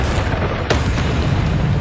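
A Bombarda explosion spell in Hogwarts Legacy on PS5, a single sharp blast bursting out of a loud, rumbling battle bed.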